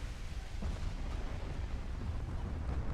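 Heavy naval gunfire from warship battle in the game Ultimate Admiral: Dreadnoughts, a continuous low rumbling barrage of distant booms with no clear separate shots.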